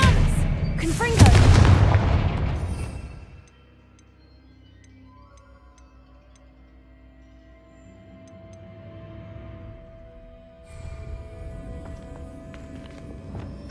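In the Hogwarts Legacy video game, a loud Confringo spell blast goes off at the start with a big booming burst, then fades into quiet game ambience with faint ticking and a low tone.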